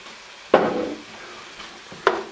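A spatula stirs soy sauce into a sizzling egg roll bowl in a pan, with two sharp scraping strokes over a faint, steady sizzle.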